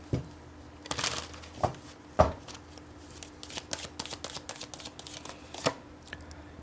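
Tarot cards being shuffled by hand, a series of crisp riffling and flicking bursts with soft papery shuffles between them, close and fairly quiet with no talking.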